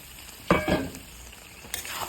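Pre-fried potatoes tipped into sizzling chicken curry in a pan: a soft bed of frying hiss broken by two close bursts of clatter and splatter, then a fainter knock, with no talk.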